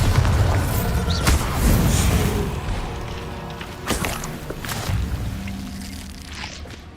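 A Bombarda blasting spell in Hogwarts Legacy goes off as a deep booming thud, followed by a few lighter impacts and rumbling debris that fade over several seconds.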